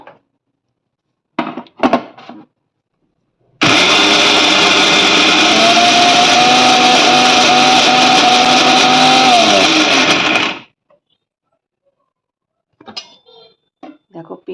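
A mixer grinder runs loud and steady for about seven seconds, blending yellow pea lentils and green chillies into a paste. Brief kitchen handling noises come before and after it.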